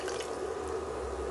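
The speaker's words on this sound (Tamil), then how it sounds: "சிக்கன் நல்லா வதங்கினாக்கில் நல்ல 3 கப் அளவுக்கு தண்ணி சேர்த்துக்கோங்க" Water pours in a steady continuous stream onto chicken in a cooking pot for Hyderabadi chicken haleem, a close, even liquid rush with no talk over it.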